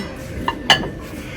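Two short, bright clinks ring out as H&M Home ceramic plates tap together, a small knock followed by a louder ringing chink, close to the mic in an otherwise quiet shop.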